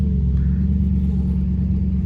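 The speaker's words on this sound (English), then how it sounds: "lower the window so you can hear this beautiful masterpiece of an engine" A 2007 Mercedes-Benz CLS63 AMG with the Renntech power package holds a loud, steady, deep engine rumble, heard close from inside the car with the window down, with no talking.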